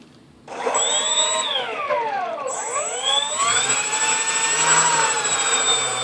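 Several electric ducted fans in an RC Airbus A380 model spool up together into a loud, rising whine. The pitch sweeps down and back up as the throttle shifts, then holds a steady high drone.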